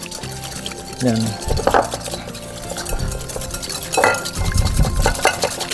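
Oil is poured slowly into aioli and mixed in, with repeated clinking and scraping of a utensil against a bowl, a liquid pour, and a person talking throughout.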